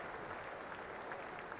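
A cricket crowd at a Surrey v Kent Spitfires Vitality Blast match applauding a bowler at the end of his spell, steady distant clapping spread across the ground, faint and unbroken throughout.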